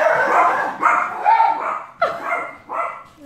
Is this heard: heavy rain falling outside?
no